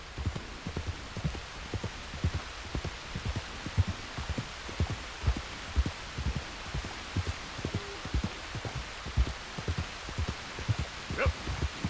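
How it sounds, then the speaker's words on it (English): Steady rain hisses over a wet landscape in Red Dead Redemption 2 while a horse's hooves clop in an even rhythm through the mud beneath it. "Might as well enjoy the rain."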